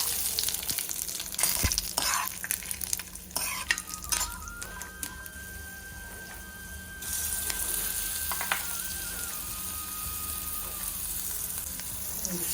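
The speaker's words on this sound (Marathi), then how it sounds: "मी आता इथे तेल तापायला ठेवलं आहे जिरे शेंगदाणे" Cumin seeds and peanuts sizzle steadily in hot oil, a dense crackle with occasional stirring clicks and a thin, faint whine through the middle, with no talking.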